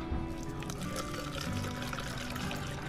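Pre-mix coolant pours steadily into the reservoir of a Honda ADV160 scooter, a continuous close liquid splash and trickle lasting the whole moment with no pauses.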